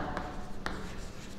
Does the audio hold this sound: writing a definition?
yes